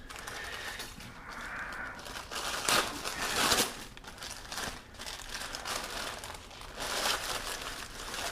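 A wrapped brisket is cut open and its wrapping peeled back, giving continuous crinkling and rustling of paper or foil with a few louder tearing bursts, close and fairly steady throughout.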